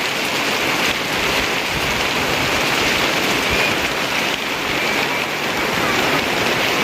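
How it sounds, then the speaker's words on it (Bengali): Steady heavy rain pours down on surfaces, a dense, even hiss that stays constant throughout, close and loud with no breaks. "আরে দেখো কি বৃষ্টি শুরু হয়েছে"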